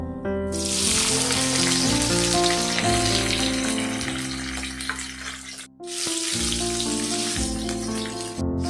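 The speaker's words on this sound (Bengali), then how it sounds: "এবার আমি ক্যাপসিকাম গুলো ভেজে নেব।" Capsicum fries in a pan of hot oil with a loud, continuous close-up sizzle that breaks off briefly twice, accompanied by a steady tonal backing.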